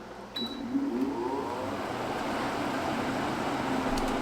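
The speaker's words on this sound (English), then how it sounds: "I got like a mini central air unit just for this room and this room alone." A steady mechanical hum and broadband whoosh of an air conditioning unit running continuously, fairly quiet, with no voices.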